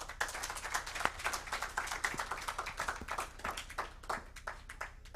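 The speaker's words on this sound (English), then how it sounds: "Let us give him a better clap." An audience at a KIPPRA mentorship programme for university and TVET students claps for a speaker, a quiet, scattered patter of hands with a few sharper claps standing out, sounding somewhat distant.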